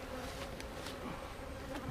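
Agitated honeybees buzzing at an opened beehive during a hive split, a steady faint swarm drone with occasional louder passes of single bees close by.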